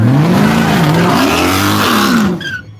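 An AMG and a Ford F-150 launch side by side at Yello Belly Dragstrip under the lights, engines roaring loud and close with rising revs and tire squeal before the noise drops away.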